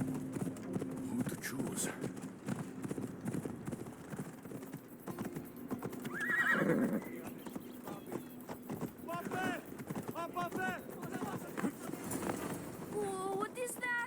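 Hoofbeats clop steadily from a horse in the video game Assassin's Creed Odyssey, a special dark horse belonging to Hades, with a short neigh rising midway; someone talks over much of it amid faint game ambience.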